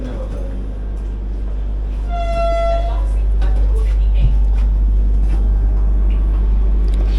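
A Vande Bharat special train, Ernakulam to Bengaluru, sounds a single sustained horn blast of about a second as it departs, heard from inside over a steady low rumble that swells as it gets moving.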